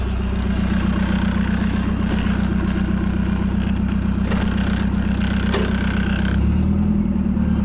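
A forklift engine idles loudly and roughly, its exhaust leak giving a raspy, near straight-pipe unmuffled rumble, then revs up slightly near the end.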